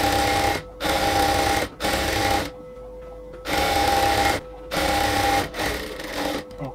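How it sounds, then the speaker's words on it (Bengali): A sewing machine runs in loud, steady bursts as it double-stitches the side seam of a nighty from top to bottom, pausing briefly between runs, close up with no voices. "এটাকে ডাবল সেলাই করে নিচ্ছি, আবার একদম উপর থেকে নিচ পর্যন্ত"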